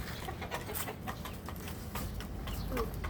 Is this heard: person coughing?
no